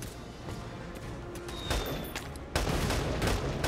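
Gunfire from the Valkyria Chronicles 4 video game, a dense rattle of shots with heavier blasts cutting in, running steadily and growing louder toward the end, without any talking.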